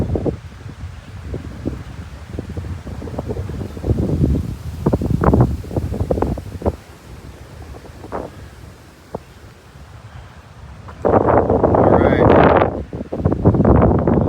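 Steady wind blows outdoors on a mountain climb in New Hampshire, heavy gusts buffeting the microphone in bursts that grow louder near the end, with speech in places.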